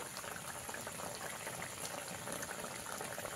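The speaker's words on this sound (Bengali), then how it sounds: "মাছগুলো দিয়ে আমি 3 থেকে 4 মিনিট ভালো করে ফুটিয়ে নিয়েছি।" Rui fish simmering in a semi-thick poppy-seed gravy in a pan, a soft steady bubbling and hiss, faint and continuous with no voices.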